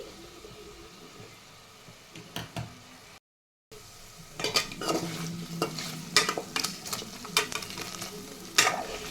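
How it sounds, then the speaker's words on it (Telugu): Paneer frying in a pan while being stirred: a steady soft sizzle with repeated scraping and clacking strokes from a utensil, which grow louder and busier after a brief gap. "పన్నీరు పాలవాసన వస్తుంది కాబట్టి ఆ స్మెల్ పోయే వరకు మనం ఫ్రై చేసుకోవాలి"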